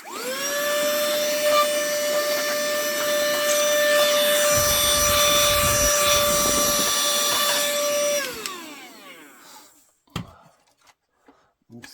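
A small vacuum cleaner sucks dirt and dust out of an opened PlayStation 3 console, its steady whine holding for about eight seconds before powering down, followed by a few faint clicks and handling noises.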